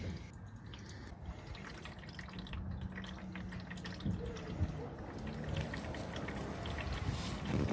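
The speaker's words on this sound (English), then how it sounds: "You might have to keep adjusting the drain pan to get all the oil to flow into it." Engine oil drains from a 2011 GMC Terrain into a drain pan, a faint, steady trickling and splashing stream nearby that grows slightly stronger toward the end.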